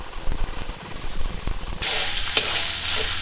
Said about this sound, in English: you have to keep on stirring because otherwise the fat will stick to the wok